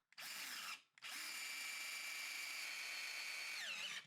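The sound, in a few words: power drill driving a screw into a door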